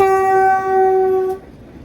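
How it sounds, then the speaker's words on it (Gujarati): A loud, sustained train horn blast from a train arriving at Una, steady and close, cutting off after about a second and a half into quieter rumble. "ટ્રેન આવી ઉના"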